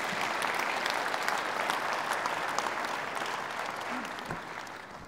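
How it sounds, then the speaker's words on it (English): Applause from the audience at a university lecture event, a dense, sustained roar of many hands clapping that stays loud and steady and eases slightly toward the end. "Give them a big round of applause."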